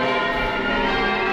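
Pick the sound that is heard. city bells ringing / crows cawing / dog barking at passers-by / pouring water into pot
city bells ringing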